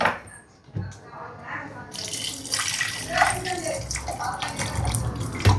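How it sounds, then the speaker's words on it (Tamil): Water splashes and streams steadily into a vessel, close by, continuing for several seconds with small clinks and a faint hiss throughout. "தண்ணி ஊற்றியாச்சு"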